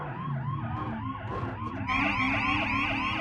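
Police siren in a video game wails in a rapid repeating rise-and-fall, joined partway through by a second, higher siren layer, loud and close over steady engine and traffic noise.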